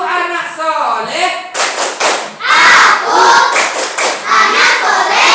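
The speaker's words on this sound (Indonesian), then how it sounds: "Satu kali tepuk anak soleh." Children in an Islamic education class clap the "tepuk anak soleh" chant, sharp group hand claps in a quick rhythm mixed with loud shouted chanting voices after a teacher's spoken lead-in.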